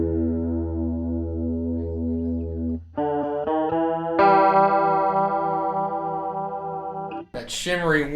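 Electric guitar run through a chorus pedal with the rate turned up, sustained chords shimmering and gently wobbling, a few clean note changes partway through, loud and close with no other sounds.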